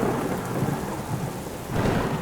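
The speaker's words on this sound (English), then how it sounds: "Thunderstorms can be loud. The booms, bangs, and pings can be startling." Rolling thunder rumbles low and deep over steady rain, with a second swell of thunder building near the end.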